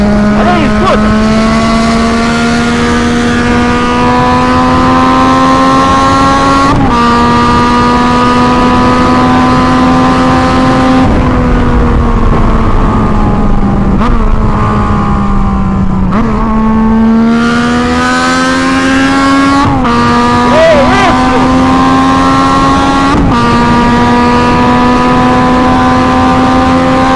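Yamaha MT-09 (FZ-09) motorcycle with a straight-pipe exhaust, loud and close, holding a raw droning engine note that repeatedly drops and climbs again as the throttle is opened and closed while riding.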